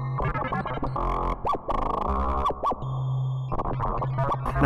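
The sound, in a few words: synthesizer with chorus and shimmer reverb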